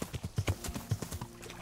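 Horse hooves clip-clop in the medieval video game Kingdom Come Deliverance. A quick, steady trot of crisp hoofbeats plays at low volume, with no talk over it.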